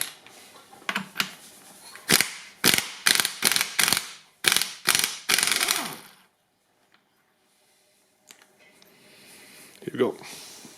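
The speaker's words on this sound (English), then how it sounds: "I think I will need to use the rattling gun for that." Pneumatic impact wrench rattling off a 32 mm clutch nut on a Suzuki GSX-R 750 SRAD motorcycle: a run of short, loud, hammering bursts in quick succession, then near silence, with a voice speaking faintly near the end.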